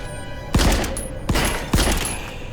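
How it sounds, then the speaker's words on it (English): Homing ball spell firing in The Light Brigade video game: three sharp, punchy bursts with bright ringing tones, evenly spaced and loud, over a steady hum of game ambience. "causes you to fire off little homing balls, homing on enemies"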